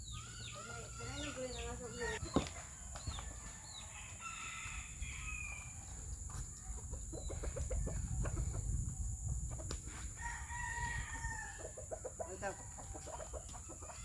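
Chickens cluck and call close by, led by a Tagalog crossbreed rooster, with a crow early on and scattered clucks throughout. A voice talks intermittently underneath.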